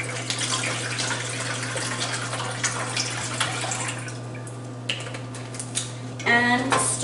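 Kitchen tap water runs steadily into a metal pot being filled for boxed macaroni and cheese, a continuous splashing hiss with light clinks of cookware, ending in a brief louder clatter.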